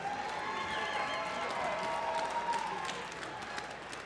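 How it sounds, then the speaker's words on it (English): An audience at a Shamrock FC mixed martial arts event applauds the fighters after a bout. The clapping and crowd noise stay continuous and fairly dense throughout. "let's give both of these fighters a big round of applause"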